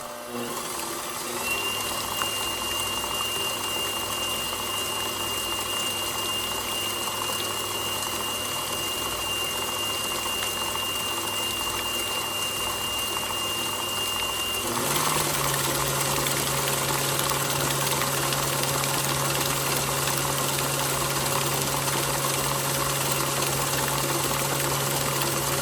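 A KitchenAid Professional 6000 HD stand mixer with a DC motor hums steadily throughout, mixing wet batter before the dry ingredients go in; its tone shifts up slightly partway through as the speed changes, with no talk over it.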